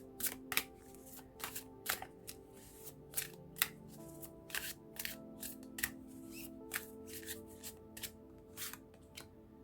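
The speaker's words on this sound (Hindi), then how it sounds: "जब तक कार्ड शफल होते हैं" Tarot cards being shuffled by hand, a series of quick crisp riffles and flicks repeating in an uneven rhythm, close and fairly quiet with soft handling noise between.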